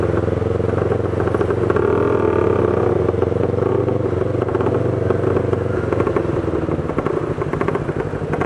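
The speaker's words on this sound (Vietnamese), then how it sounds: "Ủa chiếc Vespa này nghe cái tiếng bô hay quá." A Vespa scooter's exhaust putters steadily at close range, a constant rough engine drone with light clatter that thins out near the end.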